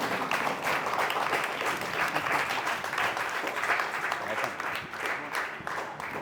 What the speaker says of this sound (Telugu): నిలబడి చప్పట్లు కొట్టి మనం థ్యాంక్స్ చెప్తాం.